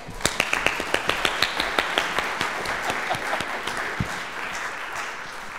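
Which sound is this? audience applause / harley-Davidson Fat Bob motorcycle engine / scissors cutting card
audience applause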